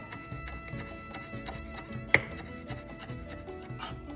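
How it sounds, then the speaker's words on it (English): A knife chops through ingredients for shredded chicken tinga on a cutting board in quick, even taps, close and moderately quiet, with one sharper knock partway through. "And now when I go through to chop,"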